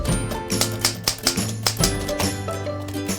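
A German-made typewriter being typed on, with a quick uneven run of sharp key strikes over a busy background of store noise, heard close and without speech.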